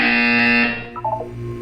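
In the video game Portal 2, a loud harsh electronic buzzer blares steadily and then cuts off, followed by a short burst of quieter electronic beeping tones.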